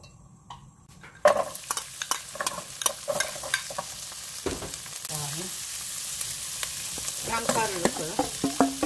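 Ham with onion, oyster mushrooms, broccoli, garlic and sausage stir-frying in a pan: quiet at first, then a sudden loud sizzle as food hits the hot oil, continuing with spatula scrapes and clicks, close by.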